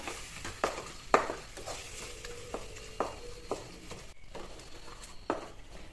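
Coriander and cumin powder with salt fry in a pan for a yogurt fish curry. A soft, low sizzle carries under a few scattered spoon knocks and scrapes against the pan.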